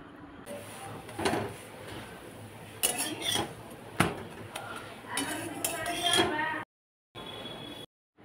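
Clinks and scrapes of a metal plate and utensils as parathas fried in ghee are lifted onto a serving plate, a few sharp knocks standing out over steady kitchen background noise with faint voices.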